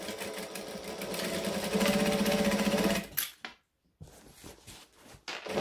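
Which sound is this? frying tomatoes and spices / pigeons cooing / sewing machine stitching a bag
sewing machine stitching a bag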